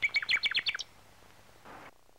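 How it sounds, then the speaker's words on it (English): Nightingale song opens with a quick, loud series of about eight bright, rhythmic chirped notes in the first second. A softer, trailing rustle of song follows, with no voices present. "Nightingale."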